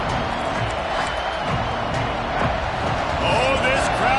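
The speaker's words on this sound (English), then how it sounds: "These fans are going absolutely nuts." Packed arena crowd of football fans roaring continuously throughout, a dense loud wash of cheering at a game with Auburn on defense on third down, with scattered shouts and a commentator's voice layered over the noise.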